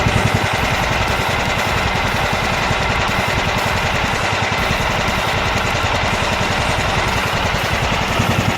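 Kohler Command CV15S engine on a John Deere GT225 lawn tractor after a rebuild, idling at low throttle with a steady, continuous rumble and fine rapid pulsing, loud and close, with no talking.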